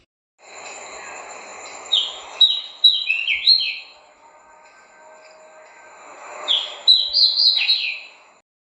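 A koel sings in two bursts of quick, high chirps and trills separated by a quiet pause, over a faint low hum.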